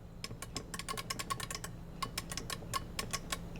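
An arcade joystick clicks sharply in quick irregular bursts, crisp and close like a blue keyboard switch, with brief pauses between runs, on an Arcade1Up Super Pac-Man cabinet.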